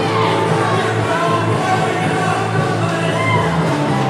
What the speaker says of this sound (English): Augustana bench, very active, cheering on their teammates